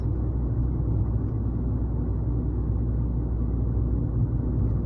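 Steady low rumble inside a car while driving, constant and close with no change in level, alone without talk.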